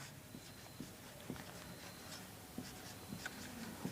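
Pen or pencil writing out a math solution by hand on paper, a faint, quiet scratching with a few soft taps and strokes, heard alone without speech.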